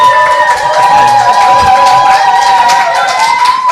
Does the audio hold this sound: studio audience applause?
yes